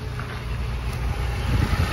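Geo Metro XFI engine fitted with a cheap eBay AMR500 blower, idling with a steady low rumble and faint mechanical whine, close and continuous without voices.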